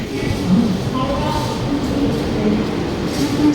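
The Black Diamond Express train running on its Howrah to Dhanbad route, a steady loud rumble of wheels and carriage noise from inside, with faint rail clicks and a brief squeal.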